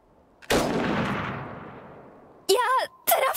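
A single loud gunshot from a deer hunt in the Iron Harvest video game, a sharp crack whose echo fades out over about two seconds, followed by voices speaking.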